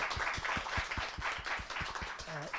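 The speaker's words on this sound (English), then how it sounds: "So would you join me to give Dr. Tan a round of applause" An audience at a university lecture gives the speaker a round of applause, the claps quiet and somewhat distant and overlapping, with a brief voice at the very end.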